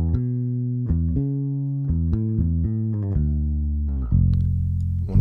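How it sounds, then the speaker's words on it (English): Bass guitar played through an equalizer plugin gives a sequence of plucked, deep notes with clear attacks, each ringing before the next. A final low note sustains loudly. No voices. "So now let's move on to a bass guitar."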